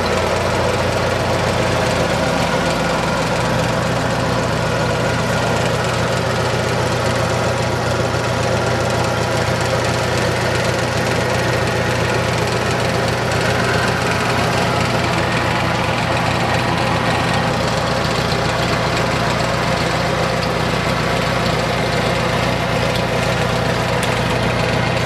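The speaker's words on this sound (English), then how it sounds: "very smooth running tractor, as you can tell." A diesel engine on a 2015 Super MTA tractor idles steadily for the whole stretch, a low rumbling chug that stays even and unbroken, with no talking.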